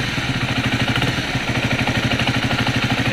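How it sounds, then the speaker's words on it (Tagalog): A repaired motorcycle engine idles steadily and quietly after a knocking and vibration fault was fixed, its even low pulsing throb running close and continuous without talk. "tunog ngayon ng motor ko. Tahimik na siya."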